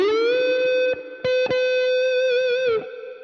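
A distorted electric guitar plays a slow blues-rock lead: sustained notes are bent upward and slid into further bends, with brief pauses between phrases and a wavering, vibrato-like finish, loud and alone.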